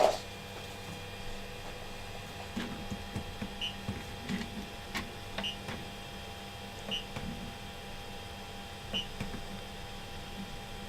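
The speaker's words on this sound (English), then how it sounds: "printer heating up." A 3D printer heating up and printing, a low steady hum with faint periodic beeps and soft mechanical ticks, heard alone in a quiet room.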